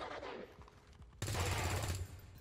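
Gunfire in the video game XCOM 2: a soft rattle of shots, then a sudden loud, sustained burst of rapid automatic fire with heavy low booms, fairly close and with no talking.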